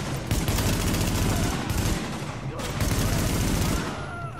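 Dense, loud bursts of automatic gunfire and rapid shots in the video game Tom Clancy's The Division, firing continuously through the whole stretch with brief dips, with players talking underneath.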